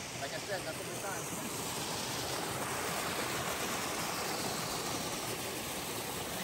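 Water rushes steadily along the Castle Crags hiking trail, a soft, continuous broadband wash with no breaks.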